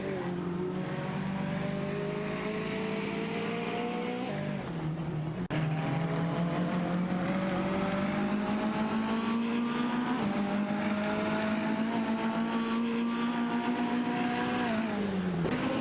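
A Porsche 968 Turbo RS and a Toyota Celica battle in a simulated race, engines droning loudly and continuously with rising and falling pitch as they shift gears, steady racing noise throughout with no voices.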